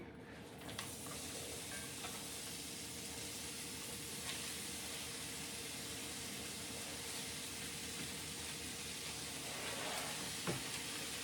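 Vegetables sizzle steadily in olive oil in a pan while burrito bowl meal prep is underway, a loud, continuous hiss with no talking.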